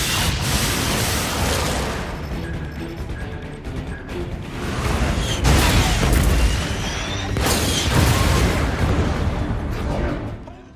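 Missile strikes exploding against alien ships in a naval battle film scene, with heavy booming blasts and crashing impacts that surge over a dense, continuous roar of mechanical clatter and rumbling for the whole stretch.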